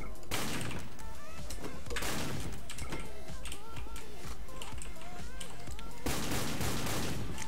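Pump-action shotguns blast in a shooter game: a few loud, punchy shots spaced seconds apart, with clicking and handling noises between them and a voice talking in the background.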